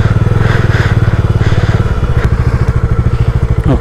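Motorcycle engine on a beach road in Konkan, running close and loud with a fast, throbbing pulse that stays steady for the whole stretch, with some clatter and thumps.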